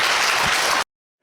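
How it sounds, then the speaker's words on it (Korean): Studio audience giving a brief round of applause on a stock market talk show, a short dense burst of clapping that cuts off abruptly into silence after under a second. "자료 준비해 오신 우리 하창봉 대표께 박수 한번 쳐주시죠."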